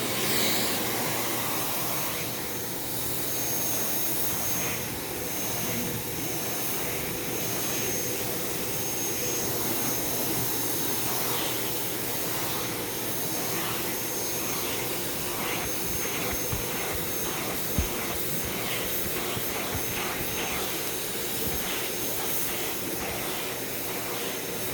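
A Dyson Cinetic Big Ball UP14 vacuum cleaner, fitted with a generic non-Dyson hose, runs continuously with a loud, steady, airy whine and roar for about twenty-five seconds, with no one speaking.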